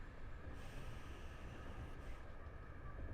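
Steady low rumble of a train in the Train Drive ATS 3 game, a continuous close rail drone with wheel noise and a faint high hiss, running throughout with no talk.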